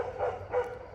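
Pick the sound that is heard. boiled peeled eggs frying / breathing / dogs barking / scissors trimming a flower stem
dogs barking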